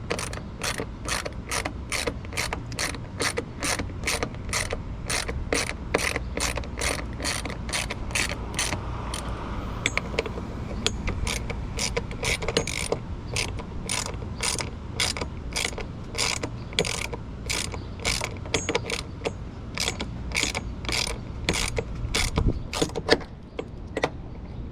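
A hand ratchet clicks rapidly and evenly as it tightens bolts on the rear hatch struts of a 1999 Lexus RX300, the sharp pawl ticks repeating close up throughout with no talk.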